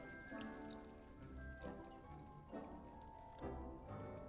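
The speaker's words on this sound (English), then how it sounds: "Yeah, it's a little raining." Rain in the Hogwarts Legacy video game, a soft, steady patter of drops at low level, with no talking over it.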